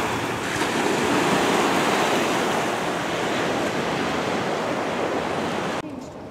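Ocean surf washing onto a beach, a continuous loud roar of breaking waves with some wind buffeting the microphone, cutting off abruptly near the end.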